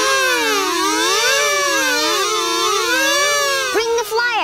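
A buzzy, kazoo-like voice imitates a wailing siren, its pitch swooping up and down in loud repeated waves before breaking off near the end.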